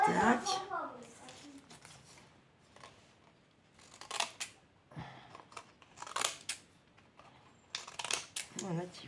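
Scissors snipping through paper while making a Christmas scrapbook junk journal, a series of crisp, close cuts in irregular bursts, with people chatting throughout.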